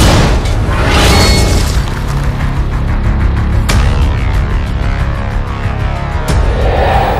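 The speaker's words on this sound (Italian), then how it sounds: "Questo è il suono delle battaglie combattute e di vite perse." Loud cinematic battle effects for a Snow White and the Huntsman trailer, with dense rumbling booms, explosive bursts and sharp impacts filling a continuous heavy wall of sound.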